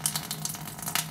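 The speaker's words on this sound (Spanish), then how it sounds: "Estamos botando el agua de la carne, que ya ahora sí está limpiecita." Water is poured off cooked ground beef into a colander in a kitchen, making a steady, close hiss and splash that runs without a break for about a second.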